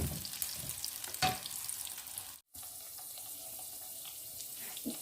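Pakoras frying in hot oil give a soft continuous bubbling hiss with a few louder splashes, briefly cut off midway, then the quiet sizzle resumes, no talk.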